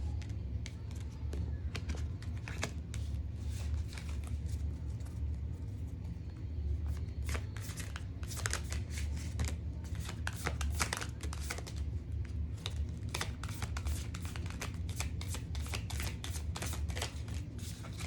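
Tarot cards shuffled steadily for the whole stretch, a close, continuous papery riffling and crinkling with frequent sharper slaps over a low background rumble, no talking.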